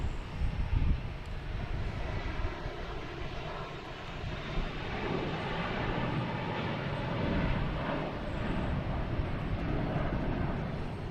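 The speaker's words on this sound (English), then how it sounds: "American Airlines, an A321. It came from Charlotte." Steady jet engine roar of an American Airlines Airbus A321 at Boston Logan Airport, a continuous broadband rumble holding loud and even throughout with no talk.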